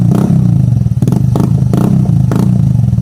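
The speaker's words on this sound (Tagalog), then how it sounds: "Narinig nyo naman mga boss kung gaano kasolid yung tunog ng tri-oval muffler." A Yamaha scooter with a chrome tri-oval exhaust muffler idling loudly up close, with several short revving bursts and a rattly exhaust note.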